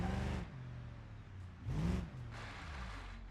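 An Opel Astra engine hums at a low, fairly quiet idle, then briefly revs up and drops back before settling into a steady drone.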